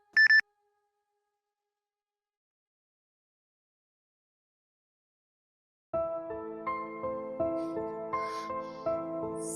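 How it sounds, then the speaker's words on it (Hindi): A short, bright phone message notification beep sounds once at the start, followed by a long silence before soft music fades in. "सरमत का मैसेज है।"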